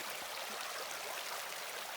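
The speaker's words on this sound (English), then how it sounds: "Alright, my first time at the water. This nice little creek." A small creek flows steadily nearby on a backcountry trail near camp, a continuous soft hiss and trickle of running water with no voices.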